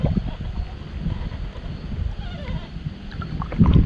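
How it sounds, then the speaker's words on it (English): Wind moves through trees in the woods, with the trunks rubbing against each other, giving a steady low rushing blow with faint creaks and irregular rustles and a louder gust near the end. "that's just the wind blowing the trees, and the trees are rubbing against each other"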